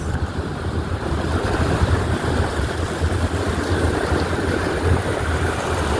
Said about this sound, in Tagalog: Ay, umuulan na mga kalalabs, oh.